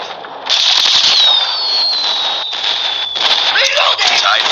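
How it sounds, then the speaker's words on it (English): Loud crackling bursts and whistling streaks of fireworks fired from an LK24 gun in Call of Duty Mobile, sustained and dense, with sharp pops scattered throughout. "you can see it shoots fireworks off."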